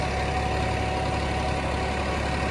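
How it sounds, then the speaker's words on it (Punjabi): A Massey 9500 tractor working a rotavator in soil at about 1500 rpm, a loud, steady, low diesel drone with a pulsing throb throughout and no voices. "ਟਰੈਕਟਰ ਨੂੰ ਜੀ ਬਿਲਕੁਲ ਆਰਾਮ ਨਾਲ ਚੱਲ ਰਿਹਾ"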